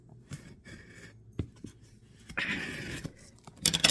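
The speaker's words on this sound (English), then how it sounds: "So I've got scissors here. I'm gonna take and open this up," Scissors cutting open a cardboard package box, with several sharp snips and scraping, slicing strokes close up, then a longer tearing cut, no voices.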